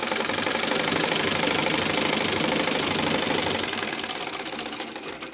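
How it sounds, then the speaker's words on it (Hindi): A sewing machine runs steadily while stitching a blouse sleeve. A dense, loud mechanical whir with a fast needle rhythm continues without pause, then eases slightly toward the end. "इस तरह से पूरी सिलाई को लगा देंगे"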